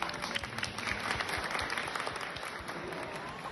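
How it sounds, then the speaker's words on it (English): An audience gives a round of applause, a dense patter of clapping at moderate volume that stays steady for a few seconds, with faint voices underneath. "I think we'll have to go round of applause."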